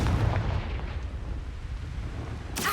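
Blasting-spell explosion in the video game Hogwarts Legacy: a loud, rumbling boom at the start that decays into a low roar, with a fresh burst near the end.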